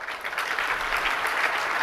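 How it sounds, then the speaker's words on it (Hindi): Steady applause from a seated audience at a Jain religious discourse, continuous and fairly even throughout, with no voices standing out. "ये ताली कहाँ क्यों बज रही है?"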